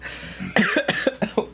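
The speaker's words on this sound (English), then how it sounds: "Look at me coughing now." A person coughs in a rapid run of about six harsh, close bursts after a brief throat rumble, loud and alone without talk.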